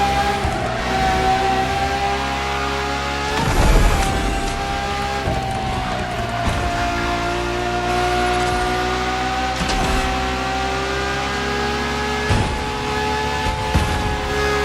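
A Ferrari V12 hybrid engine in The Crew Motorfest holds a steady, sustained drone with a few brief surges and shifts, loud and close, with no talking.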